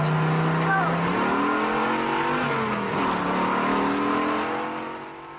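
A Dodge Hellcat speeds down a street in a street-racing run, its engine droning loud and close with a rising rev and shifting pitch, under a steady blur of road and wind noise.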